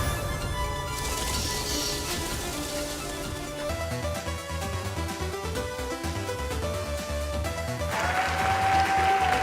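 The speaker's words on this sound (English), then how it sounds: "Listen to that crowd." A crowd claps and cheers steadily under loud music, the applause swelling slightly toward the end.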